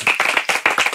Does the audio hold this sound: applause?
yes